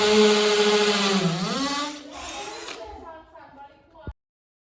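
Makita DF331D cordless drill fitted with a hammer mode, driving into concrete and pushed to its limit: a loud, strained whirring roar with harmonic whine that sags in pitch, then fades and cuts off abruptly.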